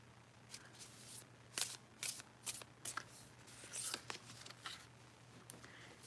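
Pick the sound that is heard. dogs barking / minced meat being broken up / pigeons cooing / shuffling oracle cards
shuffling oracle cards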